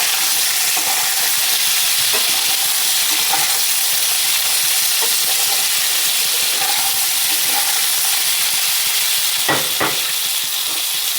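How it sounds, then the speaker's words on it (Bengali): Tomatoes and quartered onions fry in a pan with a constant loud sizzle and hiss, broken by a few soft stirring knocks and a brief clatter near the end, with no voices. "এবার এটাকে ভালো করে আমি একটু ভেজে নেব।"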